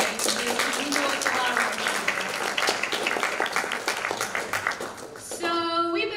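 Students and guests in a chamber clap in a sustained, fairly close round of applause with distinct individual claps, which thins out just before a brief tonal sound at the end.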